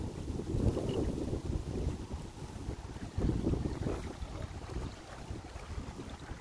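Wind blows across open water around a fishing boat, a steady low buffeting rush with gusty swells, fairly soft and continuous, with no voices.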